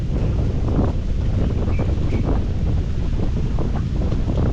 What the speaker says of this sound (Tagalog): Ang magandang bangka ni Kuya Jendo, yung may Manibela, ano eh.